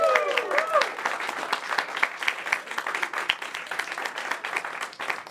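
A comedy audience applauds, dense crackling claps from many hands with a few cheers at the start, steady and close throughout.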